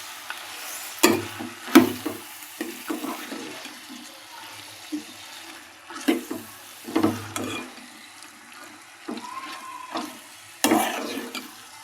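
Chicken pieces being mixed in a pan for curry produce irregular wet scraping and clattering strokes, a dozen or so distinct bursts over a faint background sizzle, close by.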